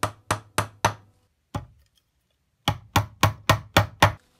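Hammer driving a short upholstery tack home on a foot stool being restored, sharp close taps in two quick runs of about five and six blows with a lone strike between.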